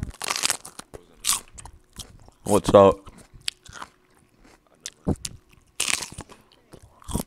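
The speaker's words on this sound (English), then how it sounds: "I'm just munching on some celery." Celery being munched into a voice-chat microphone, several loud crisp crunches breaking up between short bursts of talking.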